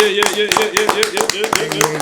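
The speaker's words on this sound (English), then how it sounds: "Round of applause for my man, Lik Moss." Rapid, steady clapping from a crowd, loud and close, with voices carrying over the applause.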